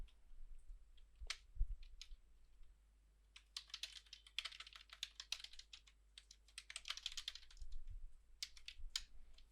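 Steady bursts of typing on a computer keyboard while writing HTML code, quiet and close, with irregular clusters of key clicks and a few sharper single taps, no talking.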